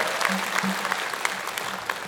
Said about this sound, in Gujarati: તો એક વખત જોરદાર તાળીઓ થઈ જાય એમના માટે